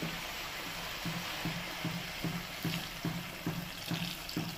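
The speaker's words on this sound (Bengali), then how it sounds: "এবার দিয়ে দেবো জল" Water poured into a pot of vegetables cooking in a Bengali home kitchen, a continuous splashing stream punctuated by regular soft rhythmic pulses, moderately loud and alone.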